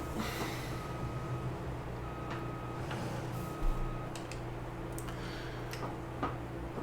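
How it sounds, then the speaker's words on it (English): A farm vehicle's reversing alarm in Farming Simulator 22 sounds as thin, repeated tones over a steady engine drone, with faint ticking clicks scattered through. "Back up. Back up. Beep, beep, beep, beep, beep."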